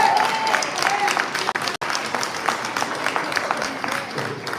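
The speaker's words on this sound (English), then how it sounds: "So I'm going to ask if everybody can give Keith Freeman a round of applause." An audience breaks into sustained applause honoring Keith Freeman at a gathering, a busy rattle of many hands clapping that runs on steadily with a couple of brief dropouts and a faint tone near the start.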